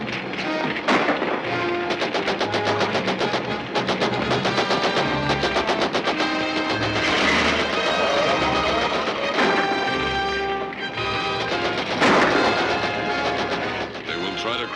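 Gunfire in a 1941 adventure serial, scattered sharp shots and thuds punctuating a dense, busy old-film soundtrack of music and commotion, loud throughout.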